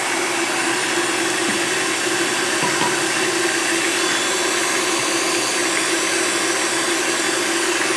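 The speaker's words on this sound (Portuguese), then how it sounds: "Eu vou continuar batendo por mais de 15 minutos e já volto." Electric mixer beating a soap mixture for mosaic bar soap, a steady, loud whirring drone that runs unbroken throughout with no voices.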